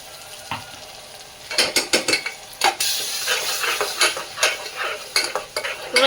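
Tomato puree and a little salt going into fried onions in a pan, with repeated loud scraping stirs and clinks of a spoon against the pan over a steady sizzle, no voices.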